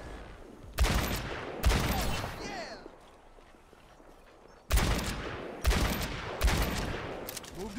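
Mercy's pistol firing in the Overwatch video game: several short bursts of sharp rapid shots separated by pauses, loud and close, with a player's voice talking between them.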